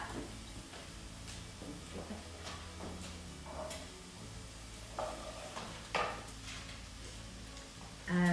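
Chopped carrot and other vegetables stirred in a pan for a vegan spaghetti bolognese, with soft intermittent scraping and faint sizzling under light background music, plus a louder clack near the end.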